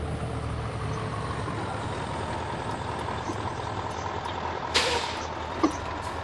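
A truck drives along a road in the farming game Farming Simulator 19, its engine a steady, continuous rumble throughout, with a brief hiss like an air brake and a short sharp clank near the end.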